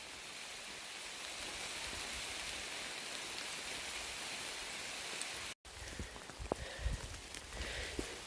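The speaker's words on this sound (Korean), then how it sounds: "비 엄청 오고 있습니다" Heavy rain falling steadily in the mountains, a dense even hiss of drops on leaves and surfaces, close and loud, with a brief cut followed by scattered louder drips and taps.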